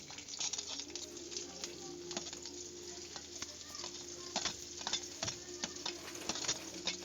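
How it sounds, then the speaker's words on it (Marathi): Chopped onion dropped into hot oil in a kadai for tempering, giving a dense continuous sizzle and crackle with busy spattering, close up and steady throughout. "तेल तापलं त्यात कांदा टाकायचा आहे फोडणीला"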